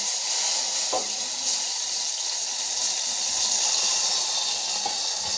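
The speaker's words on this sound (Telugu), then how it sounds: "ఈ గుజ్జు బాగా దగ్గర పడే వరకు దీన్ని వేయించుకోవాలండి" Tamarind pulp fries with green chillies in a pan for temple-style pulihora, giving a steady close bubbling sizzle with brief stirring scrapes, with no talking.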